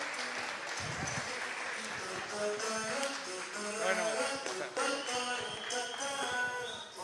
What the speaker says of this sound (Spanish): recibamos con un fuerte aplauso al señor Diego Enríquez Beltranena